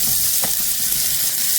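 Slices of luffa fry in browning butter in a hot pan, giving a loud, close, steady sizzle with crackling spatter and a brief stir or scrape partway through.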